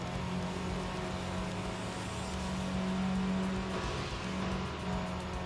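A car's engine and exhaust in the racing game Tokyo Xtreme Racer holds a steady, loud drone throughout, with a sustained low tone swelling slightly midway, no talking.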